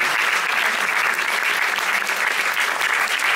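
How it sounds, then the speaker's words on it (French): Audience applause for a film director and actors at a film introduction, a dense, even wash of many hands clapping steadily without pause. "Sous vos applaudissements."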